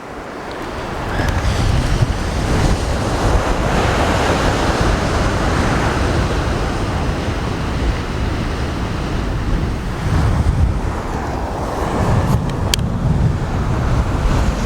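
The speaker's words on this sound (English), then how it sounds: "No reprieve from the wind today." Strong wind and crashing surf on a beach, a constant loud roar of waves with gusty wind buffeting the microphone throughout, no voices.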